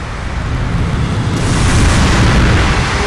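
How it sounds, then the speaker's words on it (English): In Battlefield V, a glitched explosion sound plays as a loud, dense, continuous roar that builds slightly over its length, with no speech over it. "There was like a big explosion."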